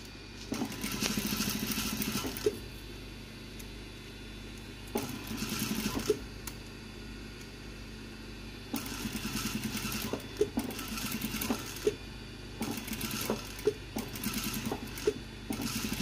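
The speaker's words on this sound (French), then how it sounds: "on va piquer nervure en cachant la première couture que l'on a faite" A sewing machine stitches a fabric seam in bursts of rapid mechanical whirring, several runs separated by quieter pauses, close and clear with no talking.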